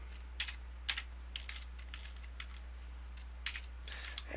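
Typing on a computer keyboard while entering web page code, quiet scattered key clicks in short bursts over a low hum, nearby and soft, with no talking.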